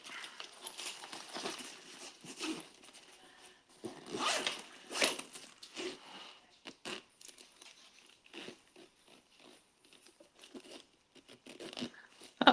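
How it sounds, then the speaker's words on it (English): A zipper on a convertible duffle bag is pulled in a run of quick rasping strokes with crinkling fabric handling in between, close and fairly quiet, ending in a sharper snap as the pull comes off. "My zipper just came off of this part."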